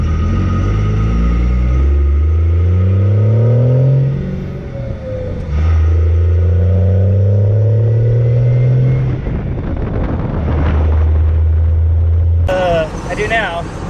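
A Ford pickup truck with a swapped-in 24-valve Cummins diesel pulls away, its engine climbing through several rising, revving sweeps close by, with people talking over it.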